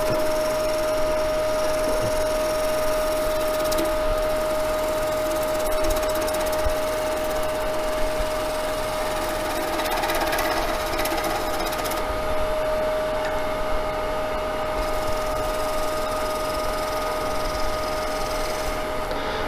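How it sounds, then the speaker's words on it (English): Skew chisel making a planing cut across a spinning wood lathe workpiece, heard as a steady close mechanical whir with a continuous tonal hum and shaving hiss running throughout without pause. "I'm going to go across and do a planing cut"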